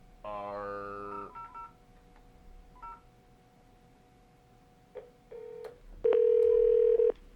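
Telephone keypad tones and a dial tone on a live radio show's call line: a burst of rapid touch-tone beeps, a few scattered single tones, then a loud steady dial tone held for about a second.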